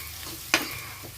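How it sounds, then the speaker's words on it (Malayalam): A dish seasoned with chili and turmeric powder is stirred in a pan over low heat, giving a soft sizzle with one sharp scrape of the spoon near the middle; no one speaks. "അടിക്ക് പിടിക്കാതെ ഇങ്ങനെ ഇളക്കണം"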